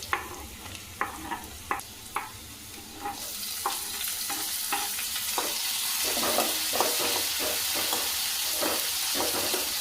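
Chopped onion frying in a pan for Maggi noodles: a few clicking stirs against the pan at first, then a loud, steady sizzle that swells and continues under more stirring, close by.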